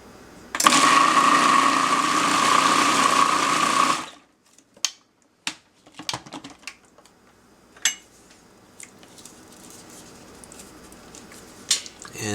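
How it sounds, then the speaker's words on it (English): A sauce with garlic and seasonings is blended until smooth: a loud, steady electric whir runs for about four seconds, then stops, followed by scattered clinks and taps of a container and utensils. "cover this up and whisk this up until smooth"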